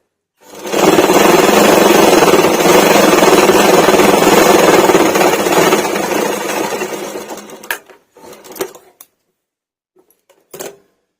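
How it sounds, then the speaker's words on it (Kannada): A sewing machine runs loud and steady for about seven seconds stitching a piece of baby cloth, then slows and stops, followed by a few short bursts of stitching and quiet handling. "ಇದನ್ನ ಒಂದು ಸ್ಟಿಚ್ ಹಾಕೊಂತೀನಿ"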